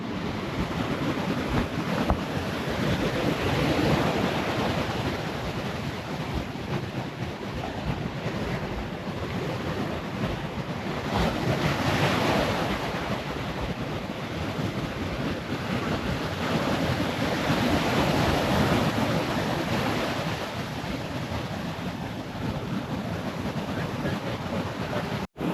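Surf and strong wind roar continuously on Legian Beach in Bali during monsoon weather, a loud broadband wash with gusts buffeting the microphone and no talk.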